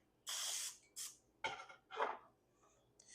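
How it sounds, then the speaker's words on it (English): Cooking spray hisses inside ring molds in several short close bursts, the first longest, separated by brief pauses, with light clinks of the metal molds in between. "all I'm going to do is spray the inside with some cooking spray"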